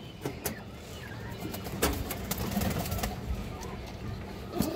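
Silver pigeons in a loft cooing softly amid scattered clicks, wing rustles and low background noise, the calls faint and intermittent.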